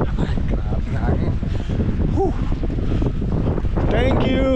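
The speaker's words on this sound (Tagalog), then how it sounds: "Ay, grabe hangin." Strong wind roars loudly and continuously against the microphone during a snowstorm in Canada, a dense blustery rush with brief voices cutting through.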